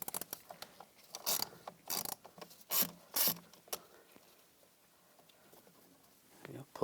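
A ratchet with a T20 socket backs a screw out of a 2010-2017 Chevrolet Equinox door panel, making several short, close bursts of clicking ratchet strokes with brief pauses between them.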